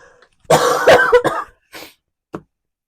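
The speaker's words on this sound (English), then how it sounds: "I have to cough again" A person coughs up close several times in a rough, rattling burst, then gives a couple of smaller coughs after short pauses.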